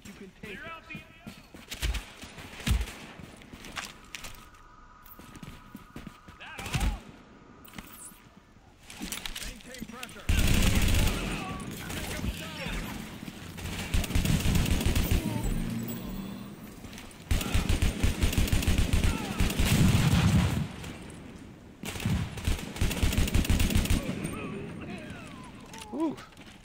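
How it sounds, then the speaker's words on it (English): Firefight in The Division, with bursts of automatic gunfire and rapid shots in clustered volleys, loud and close, mixed with shouted voices and talk. "Firefight."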